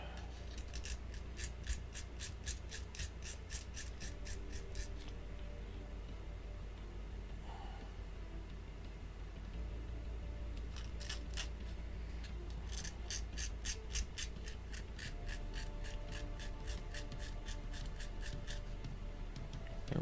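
A 1/35 scale model is sanded with sandpaper in quick rhythmic scratching bursts, close but quiet, over a low room hum with a pause in the middle.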